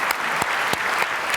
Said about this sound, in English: How about a nice round of applause for the Chamber for an excellent event.